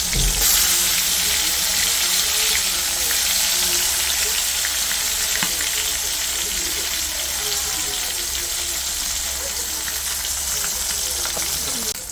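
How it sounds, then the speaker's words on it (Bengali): Koi fish fry in hot oil with a steady, dense sizzle that stays loud and even throughout, with no voices. "এখন তেল দিয়ে দিলাম, মাছটি ভেজে নেব।"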